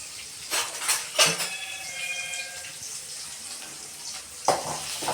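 Chopped onions go into a kadai for fish curry and are stirred, a few sharp clatters of a spoon against the pan over a low sizzle, with another knock near the end.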